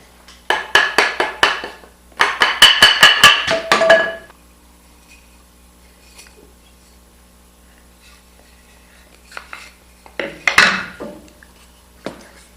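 Two bursts of rapid mechanical clatter, then a pause and another short burst, like a drill working against a metal jig, close and fairly loud; drilling dowel holes with a Woodpeckers dowel jig.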